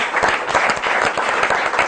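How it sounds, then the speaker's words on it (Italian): Studio audience applause for a bocce federation representative on a regional TV show, steady dense clapping from a small crowd lasting the whole moment. "Un applauso a Gianfranco"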